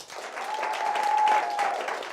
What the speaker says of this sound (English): Round of applause for them again.